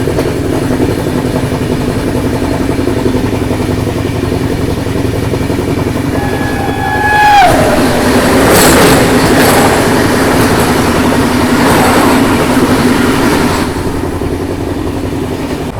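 The New Delhi–Daulatpur Chowk Jan Shatabdi Express rushes past close alongside with a loud, steady rumble of wheels, preceded by a brief whistle-like squeal as it arrives, and keeps roaring by for several seconds before easing slightly.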